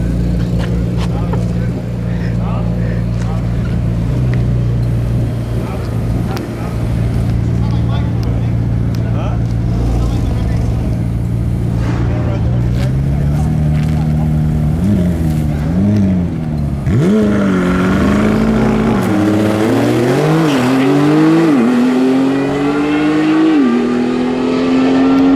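McLaren 765LT pulling hard down a quarter-mile drag strip, a loud sustained engine roar climbing through rising gear sweeps with brief shift dips in the second half, with people talking over it.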